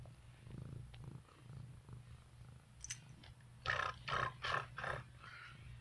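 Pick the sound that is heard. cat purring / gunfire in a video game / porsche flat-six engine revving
cat purring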